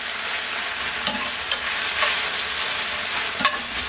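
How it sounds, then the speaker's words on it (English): Fresh spinach wilting in a pan with a splash of Pernod hisses loudly and evenly while a utensil stirs it, scraping with a few sharp clacks against the pan. No one speaks. "Just keep stirring until it's all wilted"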